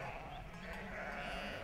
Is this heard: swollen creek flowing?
no